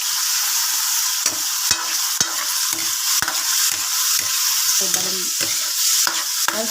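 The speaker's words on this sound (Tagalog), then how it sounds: "pinirito ko muna yung atay" Pork liver pieces fry in a hot pan for a Filipino pork menudo, a steady loud sizzle broken by scraping stirs and sharp clinks of a utensil against the pan.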